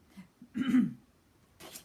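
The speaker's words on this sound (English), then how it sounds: "Here I go again coughing." A short throaty cough, two brief bursts close to the mic, with a quieter rasp at the end.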